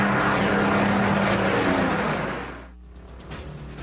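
A Supermarine Spitfire, the British single-seat fighter, roars loudly with a steady, dense engine and propeller drone that fades and thins out toward the end.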